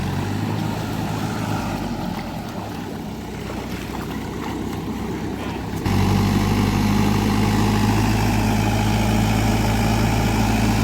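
A tractor stuck in a muddy field, its engine droning and labouring at low pitch, growing louder and heavier partway through as the revs rise, steady and close with no voices.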